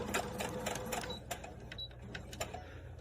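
A sewing machine back stitches over elastic on a washable fabric face mask, making short, quiet bursts of rapid mechanical stitching at close range.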